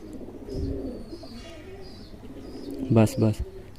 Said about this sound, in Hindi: ये देखें जी हमारा 45 नंबरी कबूतर